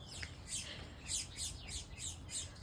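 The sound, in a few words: backyard birds chirping in spring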